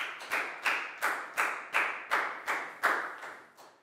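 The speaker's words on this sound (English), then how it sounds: "High five and a big round of applause for Prel," A small classroom group claps for a student in a slow, unified rhythm, about nine sharp, evenly spaced beats that fade slightly at the end.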